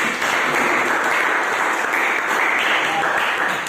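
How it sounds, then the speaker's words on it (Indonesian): Steady applause from a classroom group, dense clapping that holds evenly for a few seconds without voices. "Kita berikan tepuk tangan."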